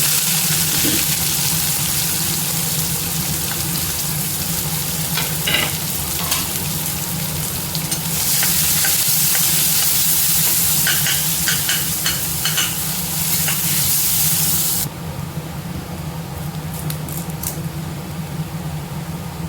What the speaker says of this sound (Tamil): எண்ணெய் காஞ்சிருச்சு கொஞ்சமாக சோம்பு சேர்த்துக்கலாம் சோம்பு நல்லா பொரிஞ்சோன்னே கட் பண்ணி வச்சுருக்கேன் வெங்காயம்